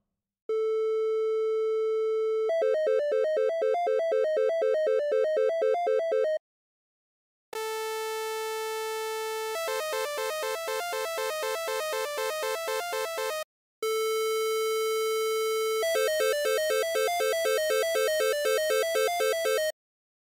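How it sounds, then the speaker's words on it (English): A synthesizer plays sustained electronic tones in three separate blocks, each switching between different waveforms, from a pure hum to buzzy, harmonic-rich pulsing timbres. The tones are steady and loud, with no talking. "Fortunately, we have synthesizers which can create lots of different waveforms."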